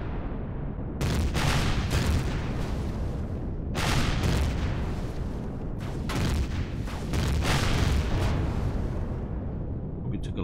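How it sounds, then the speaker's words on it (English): Enemy fire aimed at the player in Empyrion Galactic Survival, a dense run of booming blasts and rumbling impacts in bursts across the whole stretch, loud and close, with a voice talking faintly underneath. "Okay, he's firing at us."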